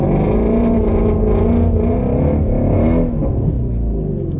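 A Shelby GT350 accelerating hard in first gear with traction control off on a wet road, its engine a loud, steady, rising roar heard from inside the car.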